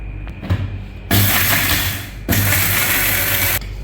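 A blender grinds whole spices into garam masala in two loud bursts of about a second each, separated by a short pause, with quieter mechanical handling sounds before the first burst.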